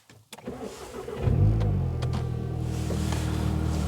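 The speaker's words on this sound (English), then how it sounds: "So let's go ahead and start up the car" A car engine cranks in cold weather and catches around a second in, then settles into a steady, fairly loud idle with a low rumble.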